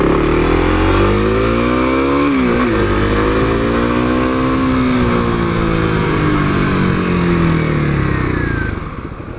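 A 2021 Kawasaki KLX300 dirt bike accelerates at full throttle toward top speed. The engine note rises loud and close, dips briefly at a gear change, then climbs steadily again amid wind noise before easing off at the end.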